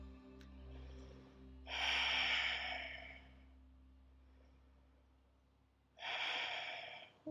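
During a yoga session, two deep breaths are taken in and let out slowly, each a long airy rush separated by quiet, close and soft with no talking.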